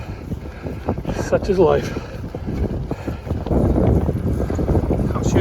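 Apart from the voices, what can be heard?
wind blowing on the microphone outdoors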